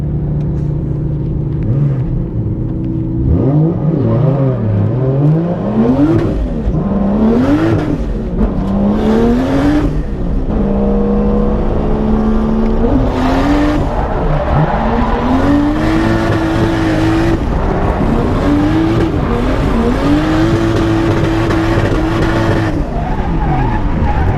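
New cars drifting on a winter track, engines revving hard in long rising and falling pulls, tires hissing and skidding continuously, loud and close throughout.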